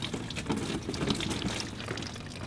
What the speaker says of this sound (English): And when you do twist it, have a pan ready to catch it as it drips.